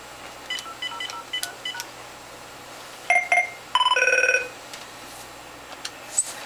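Telephone tones from a Cisco hardphone called by an analog phone on a trixbox system, with a few short dial beeps followed by louder stacked electronic ring tones in bursts, then quiet.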